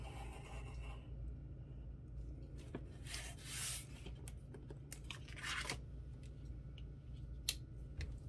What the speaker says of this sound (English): I'm going to use a razor blade to cut this the rest of the way.